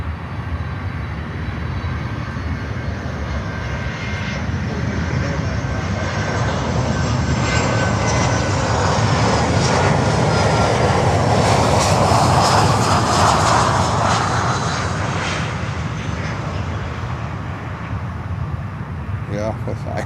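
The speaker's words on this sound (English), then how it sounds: "you see the 747 on runway 8 already in the backgrounds" A Boeing 747 cargo jet on the runway at Miami airport roars loudly and steadily, its engine noise swelling toward the middle and easing off, with a person talking over it.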